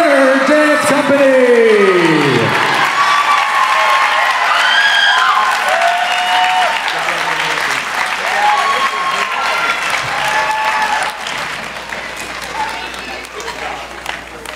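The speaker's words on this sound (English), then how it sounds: "Bryce and Eva, give them a nice round of applause." Audience at a junior dance competition national event applauds and cheers for the winning dancers, loud sustained clapping and whoops filling the hall while an announcer speaks over it.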